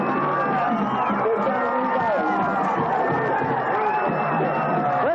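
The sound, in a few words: Wayne Valley football crowd cheering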